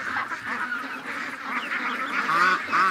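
An injured duck with a badly damaged foot honks and quacks in a steady run of harsh, nasal calls, close and fairly loud, with no talking.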